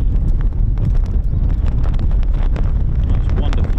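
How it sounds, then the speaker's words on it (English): Strong wind buffets an outdoor microphone at RAF Mildenhall, a loud continuous low rumble with gusty thumps throughout, with no clear voices on top. "Did you hear how windy it is?"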